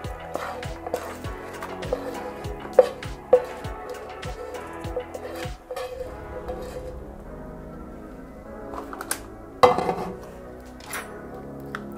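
Freshly caramelized candied almonds placed and moved on a baking sheet: a series of clinks and scraping taps of metal on metal, irregular and close, with a few sharper knocks, no speech.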